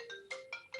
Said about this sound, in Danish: Så ringer min mobil.